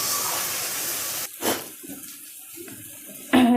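Warm water poured into a frying spice mixture with turmeric for a potato copta curry, a brief rushing splash and pour with quieter gaps, then a renewed sizzle at the end.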